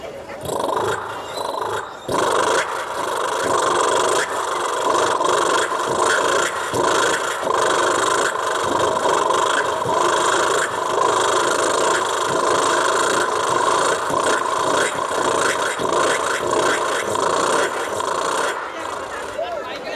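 A voice imitates a motorbike with a broken silencer riding off down the road, a loud, continuous sputtering roar that holds steady for about twenty seconds before cutting off.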